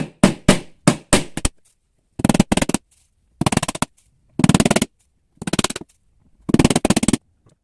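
Nails hammered into a wooden board while building a hand-made wire mesh frame, with loud, close hammer blows landing in short rapid bursts of several strikes each, separated by silent pauses.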